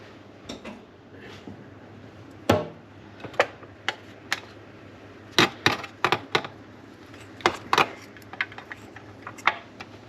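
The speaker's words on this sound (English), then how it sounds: "I'll cut a small piece to go in there with a pair of kitchen shears" Kitchen shears snip a small piece of lasagna noodle in a cream cheese lasagna kitchen, giving sharp, dry clicks and snaps spread irregularly across the moment, close and fairly quiet over a faint hum.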